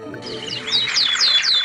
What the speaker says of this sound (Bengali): দেখ বলটু, একটা কাক।